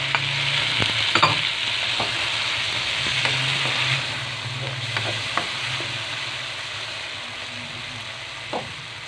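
Tomatoes sizzle in a hot pan while being stirred for tahong Bicol express, a steady frying hiss throughout with irregular scraping and knocking of the utensil against the pan, close and clear without talking.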